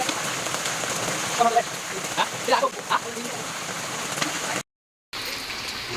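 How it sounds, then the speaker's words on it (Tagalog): Heavy rain pours down beside a drainage canal, a dense steady hiss with scattered louder drips and splashes, continuous apart from a brief dropout. "napakalakas na talaga ng ulan"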